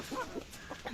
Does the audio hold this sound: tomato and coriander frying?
no